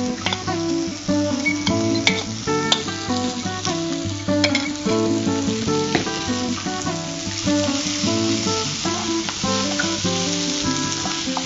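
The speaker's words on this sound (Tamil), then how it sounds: "வெங்காயம் கொஞ்சம் அந்த டிரான்ஸ்பரண்டா ஆற அளவுக்கு வதக்கிட்டு" Sliced onions sauté in an oil-filled pan, giving a steady dense sizzle with scattered crackles and pops, alone and close throughout.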